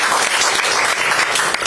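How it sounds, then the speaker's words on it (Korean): Crowd applause at a Democratic Party political rally in Busan's Geumjeong district, dense and loud clapping that fills the whole short stretch without letup. "박수 한번 보내주세요."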